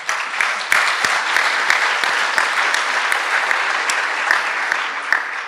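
Sustained applause from an audience at a genocide-themed event, a dense steady wash of many hands clapping at close range, with individual sharper claps standing out throughout.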